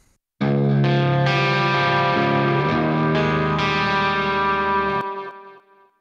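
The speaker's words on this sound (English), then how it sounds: "This one has repeater going on, and it adds a really nice and warm delay." Clean electric guitar run through the Repeater Pitchy Delay 1 plugin: sustained chords ring out loud with warm, repeating delay trails, then fade into a decaying tail after the playing stops.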